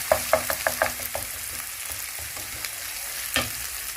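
Tripe (matumbo) hits a hot pan and is stirred, producing a lively close sizzle with quick rhythmic scraping stirs at first, then a softer steady frying hiss and one more stir near the end.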